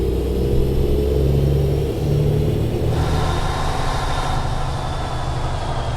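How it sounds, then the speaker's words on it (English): Kenworth W900 truck engine in American Truck Simulator, a loud continuous rumble that revs up and shifts pitch, steady and close without any voices. "Man, that's a good sounding engine."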